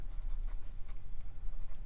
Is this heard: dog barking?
no